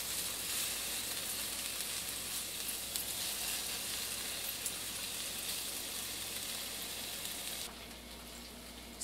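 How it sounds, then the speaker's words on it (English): Onions caramelizing in a pan for French onion soup give a steady, faint sizzle and hiss that runs unbroken throughout, dropping slightly near the end, with no voices. "while the onions are over there caramelizing"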